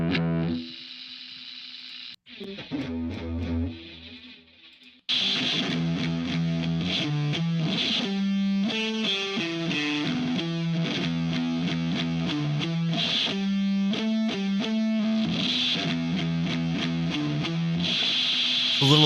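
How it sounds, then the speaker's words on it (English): A distorted electric guitar plays during a music-making session, with a few quieter notes and a pause before a loud, sustained run of chords and riffs that continues to the end. "let's do some electric guitar. Let's try some distorted guitar and see if that sounds."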